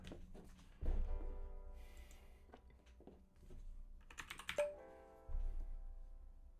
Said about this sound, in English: We want to type in Umbraco 14.